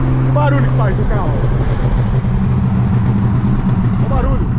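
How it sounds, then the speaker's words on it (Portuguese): An old car engine runs roughly and loudly at a steady, droning idle close by, with people talking over it. "Que barulho que faz o carro?"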